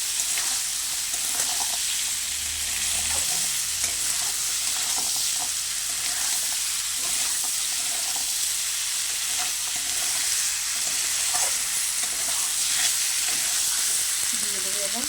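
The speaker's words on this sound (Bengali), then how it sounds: "এবারে দিয়ে দেবো বড়িটা দিয়ে আরেকটু ভালো করে কষে নেব" Lentil dumplings (bori) sautéed with pumpkin and Malabar spinach give a steady, close frying sizzle with faint stirring scrapes throughout, and no talking.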